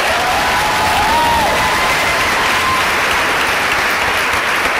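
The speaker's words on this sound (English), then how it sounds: "Would you please give her an applause?" A large audience at an Aladdin cast party gives loud, continuous applause with some cheering mixed in. The crowd noise is heard alone and stays dense throughout.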